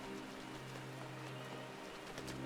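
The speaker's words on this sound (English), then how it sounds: "Out of the rain." Steady rain falls throughout in Final Fantasy XIV, an even, continuous hiss of drops on surfaces with no voices over it.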